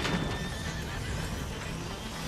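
A horse in the video game A Plague Tale: Innocence gives a loud, drawn-out neigh with clip-clopping hooves, set against a busy, noisy chase scene.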